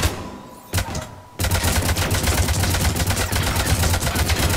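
Sniper gunfire crackles in a co-op match of the video game Mass Effect 3, loud rapid shots following a brief burst and a short lull, continuing as a dense stream of reports.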